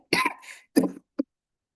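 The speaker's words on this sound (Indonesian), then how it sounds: "maaf lagi ini ya, batuk ini" Two or three rough coughs close by, a longer hacking burst, then a second, then a short final cough, with silence after.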